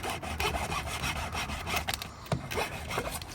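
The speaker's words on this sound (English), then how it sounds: "chamfering the edges" Edges of a pipe being chamfered, a close, continuous rasping scrape with rhythmic strokes and a few sharper knocks, heard alone without talk.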